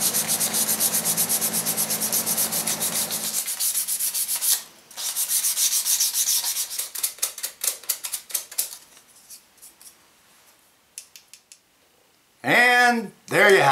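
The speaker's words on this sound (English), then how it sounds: "First with the 1/4 sheet sander, and then we're going to do some hand sanding on the inside edges" A quarter-sheet power sander buzzes steadily on wooden toast tongs, then stops. Quick bursts of hand sanding rub follow, and a voice speaks briefly at the end.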